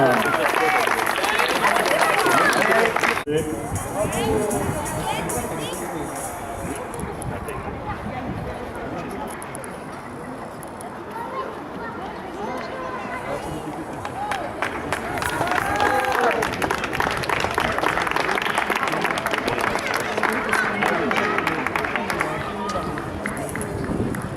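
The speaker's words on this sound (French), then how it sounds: "qu'on va également applaudir, ovationner, acclamer maintenant" Spectators clap and cheer for a runner at a 10 km road race, loud applause at the start, fading under an announcer's voice in the middle, then swelling again with crowd noise and talk.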